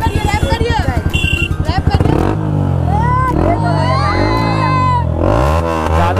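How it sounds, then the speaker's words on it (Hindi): A Yamaha R15 V3 with a loud aftermarket exhaust throbs in rapid, pulsing beats up close for about two seconds. Excited voices then whoop, shout and cheer over the sound. "कैसा लगा एग्जॉस्ट नोट?"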